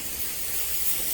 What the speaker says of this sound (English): rinse that off and see what it looks like